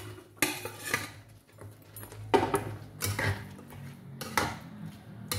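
Metal utensils clatter and scrape against a cooking pan as paneer is added, a series of sharp irregular clinks and knocks spaced across the moment, close and fairly loud with no talking.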